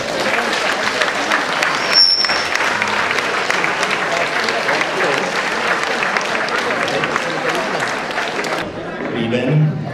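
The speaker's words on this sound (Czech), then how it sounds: "Prosím, přivítejte potleskem našeho úžasného pana ředitele a pana starostu" Audience at a school graduation evening giving a loud, dense round of applause for the headmaster and the mayor, continuous clapping for about nine seconds before it cuts off abruptly and a voice begins.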